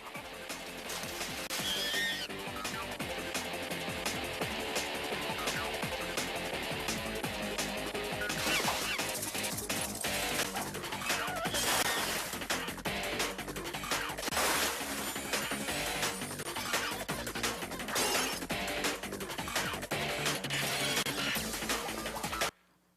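An action scene from the Powerpuff Girls movie plays as a dense, loud cartoon soundtrack of rapid crashes, smashes and hits over a steady musical score, stopping abruptly at the end.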